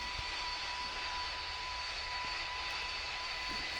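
Boeing 747 jet engines in the PTFS flight game hold a steady, loud broadband roar with a fixed whine, unchanging throughout as the throttle is set for ground speed.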